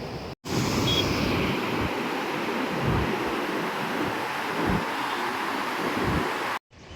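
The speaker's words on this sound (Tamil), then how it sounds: "இந்த தண்ணி வந்து கரை புரண்டு அடி திரண்டு வந்து ஓடிக்கிட்டு இருக்கு" Floodwater rushing at Mettur Dam, a steady loud roar of churning water with rumbling surges and wind buffeting, continuous throughout.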